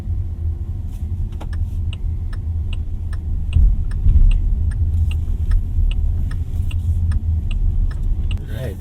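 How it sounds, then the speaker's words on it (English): Interior of a Hongqi E-QM5 electric car driving in eco mode, a steady low road rumble with a regular ticking like an indicator clicking over it, close and without talk. "we are now driving it in eco mode."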